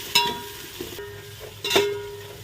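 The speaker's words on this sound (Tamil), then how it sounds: "ஒரு 2 நிமிஷம் ஆயில் நல்லா வதக்கிறப்போ" Mutton biryani masala with mint sautéing in hot oil, a soft steady sizzle with two sharp clinks of a spoon against the pan, each followed by a brief ringing tone.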